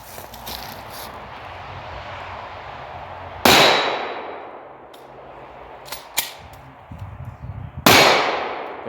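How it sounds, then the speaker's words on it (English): Two sharp, loud gunshots ring out outdoors at a shooting range during concealed-carry training, each with a long decaying echo, separated by several seconds, with fainter clanks and pops between them. "Take the shot at this small target over there."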